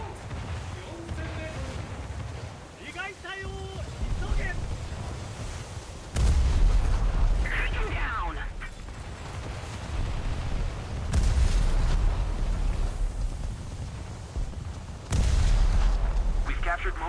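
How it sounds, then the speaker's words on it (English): Destroyer secondary guns fire in World of Warships, with repeated sharp artillery blasts over rolling ocean and engine rumble and a voice talking throughout. "the secondary guns of all destroyers will just open up on them"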